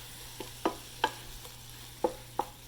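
Onions sautéing with Kashmiri red chili and jeera dhania powder for a cauliflower makhani masala, faint sizzle under a few distinct scraping stirs of a spoon in the pan.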